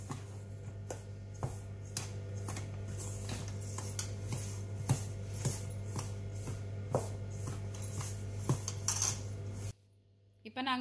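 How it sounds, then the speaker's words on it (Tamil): A spoon stirs Jaffna-style ellu paa dough, sesame flour mixed with water in a bowl, giving a steady run of light scraping taps and clinks against the bowl over a constant low hum, then a brief pause. "இப்ப நல்லா ஒரு ஸ்பூன் எடுத்து நல்லா மிக்ஸ் பண்ணுங்க."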